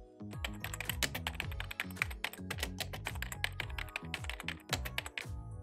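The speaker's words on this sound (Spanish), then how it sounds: "Escribe tu mensaje y pulsa la tecla Enter." Rapid keystrokes on a computer keyboard as a message is typed, a dense, steady run of close, crisp clicks and taps with no voices.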